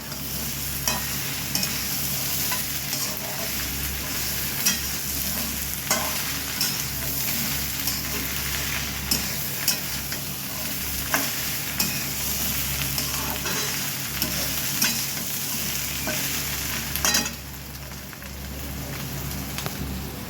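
Whole green chillies sizzle in a pan of fish-head gobindobhog rice murighonto, a steady, loud frying hiss with scattered small pops. The hiss drops slightly toward the end.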